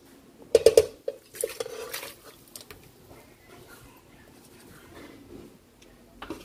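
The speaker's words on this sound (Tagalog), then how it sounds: "Salin na po natin sa ibang kaldero." Stuffed milkfish is transferred into another cooking pot, with a quick burst of metal clanks and scrapes from pots and utensils, followed by softer, sparse knocks in a quiet kitchen.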